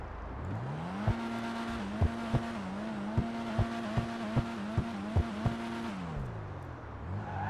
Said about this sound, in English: not that bad in terms of the way the vehicle sounds